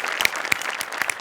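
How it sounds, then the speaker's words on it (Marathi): An audience claps at a live Marathi comedy show, a brief burst of dense, steady applause with sharp individual claps standing out. "जोरदार टाळ्या"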